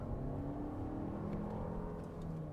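A Lexus RX 350 driving uphill, its engine a steady low hum with a faint whirring tone under a constant drone of road noise, heard from inside the car.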